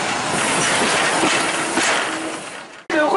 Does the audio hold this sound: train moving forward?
yes